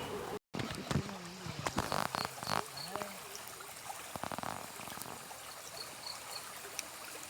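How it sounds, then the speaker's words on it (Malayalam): Water from a village waterfall at Anchal flows in a steady outdoor wash that is moderately near and continuous, with voices talking faintly now and then over the rush. "വെള്ളച്ചാട്ടത്തിൻ്റെ ആ കാതോർക്കുന്ന ആ ഒരു ശബ്ദമുണ്ടല്ലോ അത് കാതോർത്തിരിക്കാൻ വളരെയധികം രസമാണ്"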